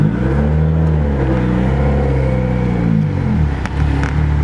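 A loud car engine, a 650 hp Mitsubishi Lancer Evolution X, revs up and down through a deep, throaty tuned exhaust, held close, with the pitch rising and falling over a few seconds.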